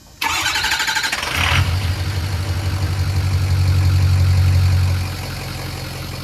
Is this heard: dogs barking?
no